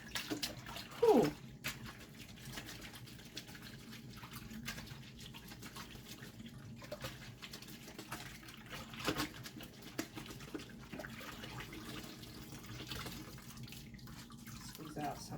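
Tap water runs steadily while dyed yarn is rinsed in a sink or tub, a continuous low splashing wash with a brief louder gush near the start and occasional squeezes, under intermittent speech.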